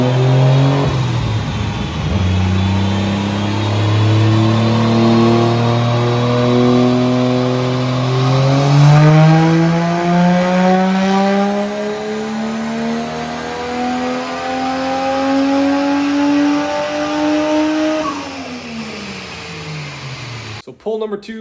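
A stock Toyota 1JZ-GTE VVTi engine on a dyno makes one long, loud, close pull, its tone climbing steadily to just under 6,000 rpm before abruptly falling away as the throttle closes.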